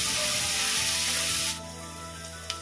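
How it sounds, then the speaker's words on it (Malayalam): Sliced onions sizzle steadily in a hot pan for kothu porotta, a loud close hiss that cuts off sharply midway, leaving a quieter low simmer with a small clink near the end. "അപ്പോൾ സവോള ഒരുവിധം വഴണ്ട് വന്നിട്ടുണ്ട്"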